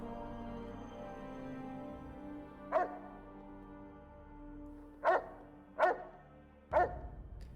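Dog barking from the game Fallout: New Vegas, four sharp separate barks, one early and three in a quicker cluster near the end, heard over a low ambient hum with no talking.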